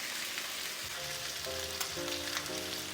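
Thin pork chops browning in a hot pan, a steady close sizzle and crackle of frying fat, with a low electronic tone pattern faintly underneath.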